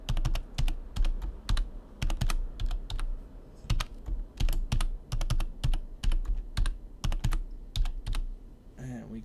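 A new password being typed on a computer keyboard, a steady run of close, crisp key clicks in irregular bursts throughout, with no talking.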